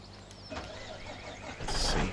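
A truck engine in Farming Simulator 17 cranks and catches, rising to a louder, steady idle in the last half-second; no talking.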